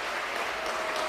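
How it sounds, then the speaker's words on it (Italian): Spectators in a packed grandstand at Granillo stadium in Reggio Calabria applaud after a football match, a steady wash of clapping at a distance with no gaps. "applausi da parte del pubblico che oggi ha gremito la tribuna"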